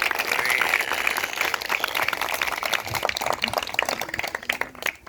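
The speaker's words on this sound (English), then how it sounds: "I think we should give him a big round of applause" Crowd applauding a school bus driver at a school plaque unveiling, a close, crackly spread of individual claps that stays full and then thins and fades toward the end.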